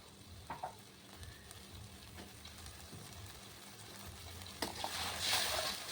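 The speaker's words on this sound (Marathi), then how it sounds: "म्हणून या पाण्याला उकळी आलेली आहे." Water coming to a boil in a pan for curd kadhi gives off a soft, steady bubbling and sizzling that swells louder near the end, with no voices.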